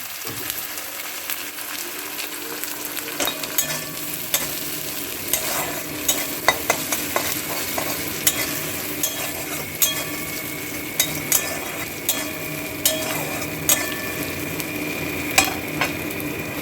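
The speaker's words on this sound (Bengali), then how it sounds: "লাল লাল করে ভেজে নিচ্ছি।" Onions frying in a pan until reddish brown for a thin rohu fish curry with gourd stems and ridge gourd, with a steady sizzle broken by regular clinks of a spoon stirring against the pan.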